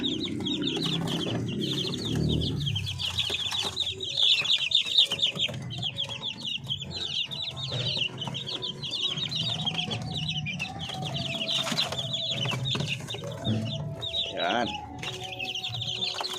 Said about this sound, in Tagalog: gutom na ating mga sisiw yan